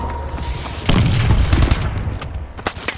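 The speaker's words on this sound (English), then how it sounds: "Friendly missile strikes incoming." Missile strike explosions in Call of Duty Advanced Warfare, several heavy booms and sharp cracking bursts in quick succession, loud and close with scattered clatter between them.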